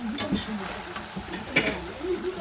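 Sardines and pechay being stirred in a pan, with soft scraping and clinking of a utensil against the pan under a faint sizzle, while a voice talks over it.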